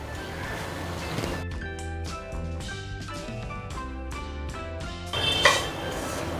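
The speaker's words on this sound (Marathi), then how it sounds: "डेसिकेटेड कोकोनट आता भाजून घेते" Desiccated coconut roasting in a pan, heard as repeated close metallic scrapes and clatters of a spoon against the pan, a steady run of strokes with a louder clank near the end, with no talking.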